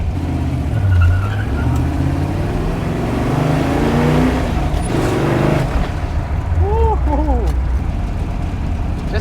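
A 1965 Shelby GT350's V8 engine revs and settles in deep throaty surges while people talk over it, with a brief squeal near the end.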